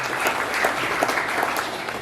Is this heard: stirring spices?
no